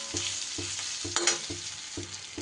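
Ground cumin, coriander and turmeric fry in oil in a pan while a spoon scrapes and stirs in a steady rhythm, about every half second, over a soft, continuous sizzle.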